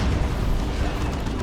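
A Leman Russ tank fires its Vanquisher cannon during a 3v3 Dawn of War 2 battle, heard as a dense, continuous rumble of explosive booms and bursts.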